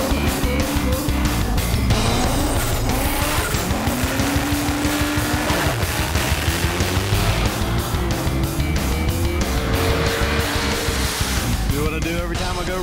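Race truck engine roaring down a drag strip at Maryland International Raceway, a loud continuous mechanical drone with rising and falling tones across a full-throttle run, heavy and close with no pauses.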